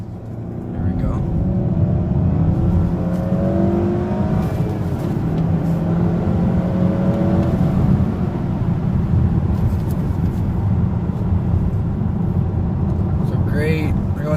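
A 2019 Honda Accord Sport 2.0T with a manual transmission accelerates hard in one sustained pull, the engine note rising loud and steady as heard from inside the cabin.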